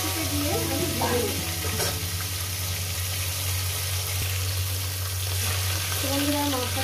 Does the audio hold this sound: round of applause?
no